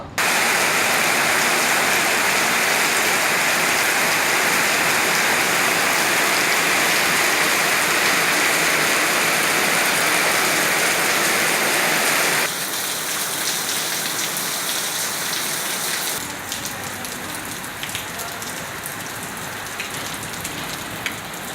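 Steady, heavy rain pours onto a surface in a dense, close hiss that continues throughout, easing slightly in intensity toward the end, with no voices.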